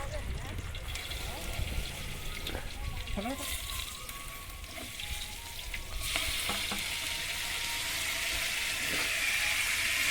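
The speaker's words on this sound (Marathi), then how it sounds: "बघा डाळीसाठी इकडे फोडणी देतात." Spices crackle and sizzle in hot oil as a tempering for dal is prepared in a village kitchen in Kumbhavade, Rajapur, a steady frying hiss with stirring and voices nearby.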